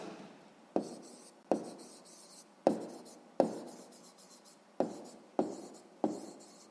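Handwriting with a pen on paper, close up, in a series of about nine separate strokes and word scratches, each starting with a sharp attack and trailing off, during a sixth-grade math exercise.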